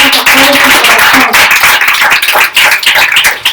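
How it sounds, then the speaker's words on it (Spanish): Church congregation applauding together during a Spanish-language service, loud and dense clapping mixed with voices and cheers throughout. "Denle un aplauso al Señor con todo su corazón."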